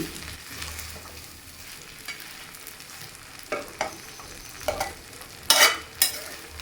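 Sweet vermicelli kesaribath made without milk is stirred in a hot pan: a low background sizzle broken by several loud scraping, clattering spoon strokes that grow more frequent toward the end.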